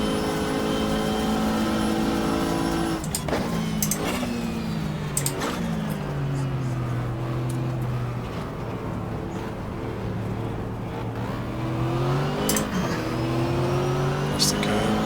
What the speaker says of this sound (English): Camaro pulls into the pits.